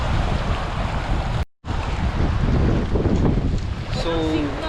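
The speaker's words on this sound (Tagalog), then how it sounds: "Kaya pagpasensyahan nyo na kung maririnig nyo ay puro hangin" Strong, cold wind at Elbow Falls in Alberta, Canada, roaring into the microphone in loud continuous gusts with a brief dropout, and a faint voice near the end.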